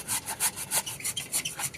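Block of palm jaggery (patali) rubbed against a grater for a sweet filling, giving close, regular back-and-forth rasping strokes, about six in quick succession.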